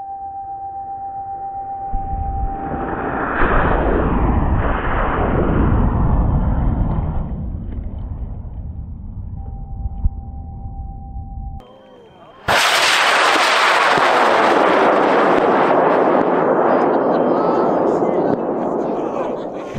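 Polecat Nike Smoke model rockets on J and K motors launching in a side-by-side drag race at ROCstock 2023: a loud roaring motor burn, a brief lull, then a second sharp, loud, sustained roar, near and dominating, with voices at the start.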